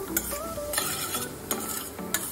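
Vegetables for millet khichdi being sautéed in a pan, with steady frying sizzle under repeated spoon stirring and scraping strokes, close and moderately loud, no talking.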